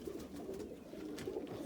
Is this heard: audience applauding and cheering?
no